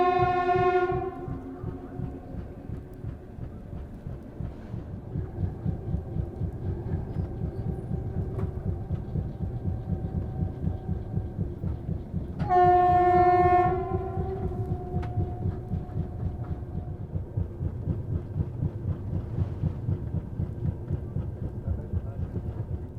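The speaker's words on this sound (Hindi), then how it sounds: "फ़िलहाल अपनी ट्रेन काजीकुंड स्टेशन पहुंच रही है" A special train runs through heavy snowfall toward Qazigund station on the Srinagar–Delhi route, its steady rumble and clatter filling the clip while a long horn blast sounds near the start and again midway.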